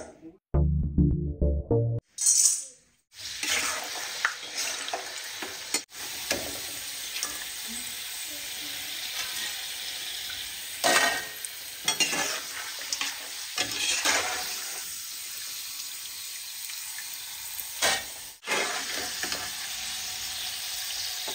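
Dried mirghate frying in oil in an iron kadhai, a continuous loud sizzle and crackle with repeated stirring scrapes throughout, after a short opening burst of other sound.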